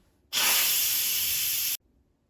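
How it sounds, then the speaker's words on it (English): An Instant Pot sends out a sudden loud, steady jet of steam during a quick pressure release after cooking potatoes on high pressure, then cuts off sharply. "so let's quick release the steam."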